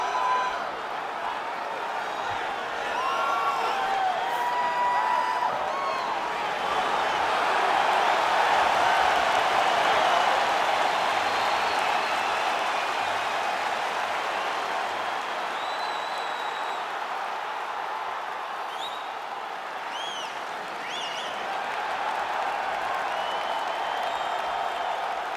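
Capacity arena crowd in the UFC 5 video game cheers and applauds steadily for a women's title fight, a broad roar that swells mid-clip and holds loud throughout with occasional whistles.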